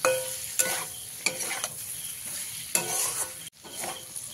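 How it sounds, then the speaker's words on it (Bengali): Potato and papaya pieces frying in a pan with spice, a soft continuous sizzle broken by periodic stirring scrapes and clatters of a spatula, close and quiet with no talking. "দিয়ে এবারে 2 মিনিট মতন আলু আর পেঁপেটাকে আমি ভালো করে ভেজে নেব।"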